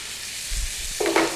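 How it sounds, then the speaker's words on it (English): A brief sizzle of bread frying in butter and bacon fat in a pan, with a soft stirring scrape and a quick burst of hissing near the end. "you get all that fat mixed in there with that butter before frying the bread"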